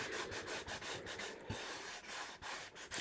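Folded paper of a 3D flower gift bag being rubbed down by hand, a quiet, close rhythmic scratchy brushing in short repeated strokes with no talking.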